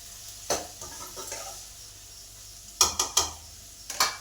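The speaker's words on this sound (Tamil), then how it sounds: "வெங்காயம் பச்சை மிளகா பூண்டு போட்டதுக்கப்புறம் நல்லா வதக்கி விடுங்க" Onions, green chili and garlic sauté in a pan, with a faint sizzle under sharp spatula scrapes and clinks against the metal, which come in scattered bursts and clusters.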